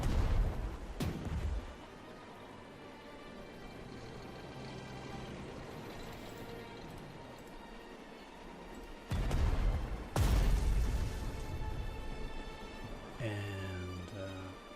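Artillery shells fired at a tank in the strategy video game Strategic Mind, set at the Battle of Suomussalmi: a sharp blast near the start, then two heavy booming bursts toward the end over a low rumbling battlefield bed.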